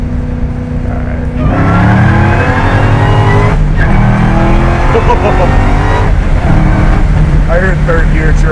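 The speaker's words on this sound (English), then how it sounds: "I heard third gear chirping." A 755-horsepower LT5-powered 1979 Camaro Z28 accelerates hard through the gears, its engine roaring loud and close with rising pitch, tires chirping on the shift into third, while people talk under the noise.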